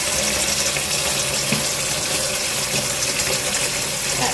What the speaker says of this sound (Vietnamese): các bạn sẽ dùng cái vòi nước ấy